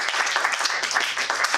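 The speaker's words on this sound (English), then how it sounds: "Let's clap for her." Audience applause at a Toastmasters club meeting, a dense steady patter of many hands clapping throughout the short stretch, fairly close, with little else mixed in.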